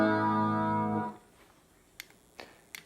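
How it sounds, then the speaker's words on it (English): A single sustained guitar chord with a shimmering, slightly wavering chorus tone rings for about a second and stops, followed by a few faint clicks. "This is with the chorus."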